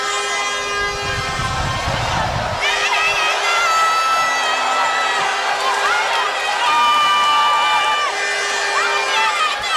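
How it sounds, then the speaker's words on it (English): Spectators at a boxing match roar and cheer loudly during the first round, a dense excited crowd noise with shrill whistles and rising shouts running throughout, with commentary voices over it. "The crowd really excited here"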